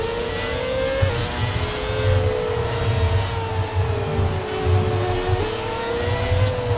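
A Formula 1 car in the F1 2017 racing game screams flat out through a turn, its engine holding a high sustained pitch that wavers slightly, steady and loud throughout with no talk.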